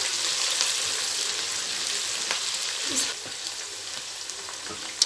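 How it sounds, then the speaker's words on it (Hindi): Steady, loud sizzling of onions frying in very hot oil for a Pakistani chicken and potato curry, a continuous crackling hiss with a few brief stirring clatters. "तेल हमारा बहुत गर्म हो गया था तो ये हम डालने लगे हैं। अब इनको फ्राई करेंगे।"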